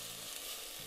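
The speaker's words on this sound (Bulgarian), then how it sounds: "Когато зеленчуците леко се запържат" Chopped vegetables with celery frying in a pan, giving a steady, close, even sizzle that fills the whole moment with no voices.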